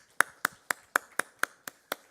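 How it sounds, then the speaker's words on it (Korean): A small church congregation claps in welcome at an afternoon worship service: about nine sharp, evenly spaced claps, close and fairly quiet, alone with no talk over them. "잠깐 우리 박수로 한번 환영하겠습니다"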